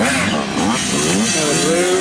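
Several 85cc motocross dirt bikes race close by, their engines revving loudly with rising and falling overlapping tones for about two seconds.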